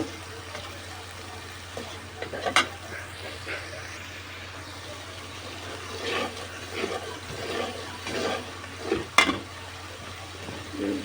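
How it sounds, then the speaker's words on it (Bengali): Shing and pangas fish being fried and stirred in a pan for a Bengali curry, giving a faint steady sizzle with scattered soft scraping and stirring noises, fairly quiet throughout. "মাছটা কষে নিয়ে মাছ তুলে রেখে দিব"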